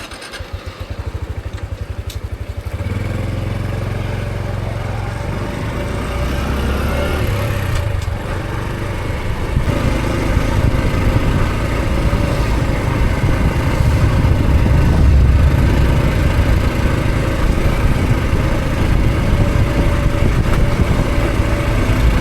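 A motorcycle engine runs steadily, a loud rumbling drone with wind noise that shifts and lowers as the bike brakes and slows to a stop beside rice paddies along a provincial road.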